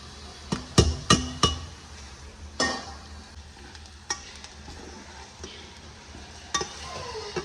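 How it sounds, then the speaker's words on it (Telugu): Spice powder drops into hot tempering oil for a rasam, bringing a soft sizzle broken by several sharp clinks and knocks of a spoon against the pan, with a brief voice partway through. "ఈ పౌడర్ని వచ్చేసి తాలింపులో వేసుకుంటున్నాను"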